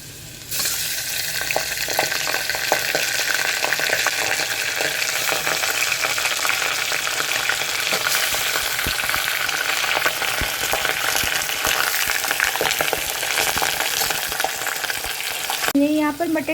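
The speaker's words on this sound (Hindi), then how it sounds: "अब हम इसको थोड़ी देर तेल में भून लेंगे मटन को" Mutton fries in hot oil with browned onions, a loud, dense, unbroken sizzle that keeps up steadily throughout with faint stirring beneath it.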